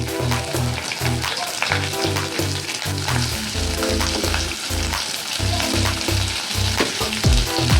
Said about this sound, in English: then I will add onions to fry